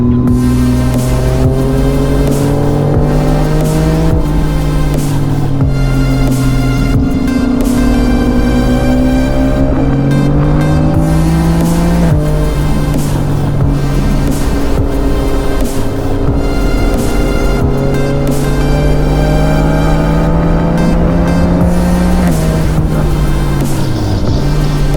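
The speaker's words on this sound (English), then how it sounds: "The exhausts are like in sync. It sounds so good." Yamaha MT-09 and MT-10 motorcycles idling and blipping together, a loud, close, continuous exhaust burble with layered engine tones that rise and fall through repeated throttle revs.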